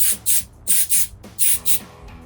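Electronic contact cleaner sprayed from an aerosol can onto a RAM 1500 LED tail light housing: six sharp hissing bursts in three quick pairs, close and loud, with no talk.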